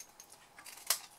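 Scissors snip paper while folding a bookfold tealight thank-you gift: soft, faint rustling crisps up into one brief sharp cut near the end, close by and quiet.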